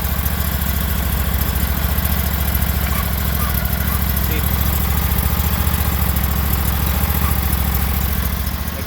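Sears Suburban lawn tractor engine, recently repaired with new fuel lines, running steadily at a close, loud idle with a constant low rumbling throb throughout.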